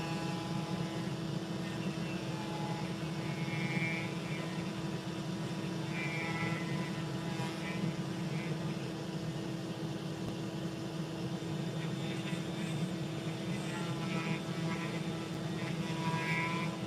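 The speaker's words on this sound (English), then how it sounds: "Kind of weird seeing me Dremel carve, huh, guys?" Dremel rotary tool power carving a pine knot, a continuous high-pitched motor whine with steady hum, intermittently loading and easing as the bit bites into the pine wood.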